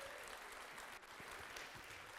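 Audience applause following a hydrogen explosion demonstration at a live science show, a dense, steady burst of clapping from a crowd lasting a couple of seconds.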